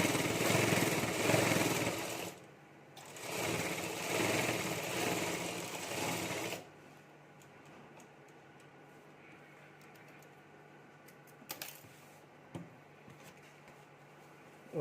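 Normal household sewing machine stitching a potli bag, two loud buzzing whirrs of motorized stitching separated by a short pause, followed by quiet with a few soft clicks.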